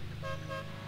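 A car horn in the racing video game Need for Speed Hot Pursuit 2 sounds in a short, steady honk over a constant low engine hum.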